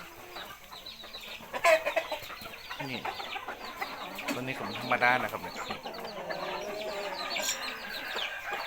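Farm chickens cluck and chatter continuously in a Thai poultry yard, a dense close flock of overlapping calls while someone talks briefly over them.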